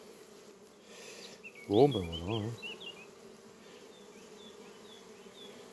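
Honey bees buzz around an opened hive, a thin, steady hum with passing individual whines, while someone briefly speaks nearby.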